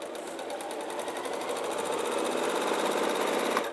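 A sewing machine stitches a fabric bag around a curve and into a corner, a steady close whirring run that holds even and continuous throughout.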